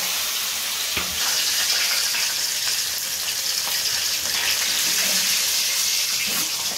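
Catla fish pieces fry in oil with a continuous hissing sizzle, steady and fairly close, with a few soft knocks underneath.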